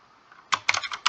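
Quick keystrokes on a computer keyboard, a short burst of about five crisp clicks close up after a brief quiet start, with no voices.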